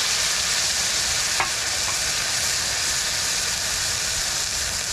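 Native chicken eggs and fern sauté in a pan with a steady close sizzle and hiss. A brief stirring scrape breaks in once, and no voices are heard.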